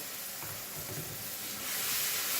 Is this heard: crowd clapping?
no